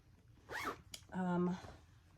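Zipper being pulled on the back compartment of a purse, two short zips close by, the second longer and louder, with a brief tap between them.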